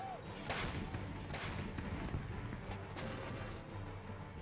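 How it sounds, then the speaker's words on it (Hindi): Artillery cannons fire during fighting against ISIS in Iraq, giving a few heavy booming blasts over a dense, continuous rumble of battle noise. "आग उगलती तोपें"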